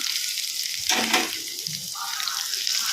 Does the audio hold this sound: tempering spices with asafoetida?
yes